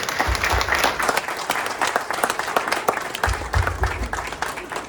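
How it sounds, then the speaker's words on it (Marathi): Loud, sustained applause from an audience at a book launch event, dense clapping throughout with brief crowd murmur. "त्यांच्या भावनांचा आदर म्हणून जोरदार टाळ्या वाढल्या"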